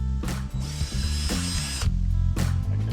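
Tools work the covers off a 1979 Vespa P200E scooter engine: close, loud bursts of a ratcheting power driver whirring and clicking, several short runs with brief pauses between them.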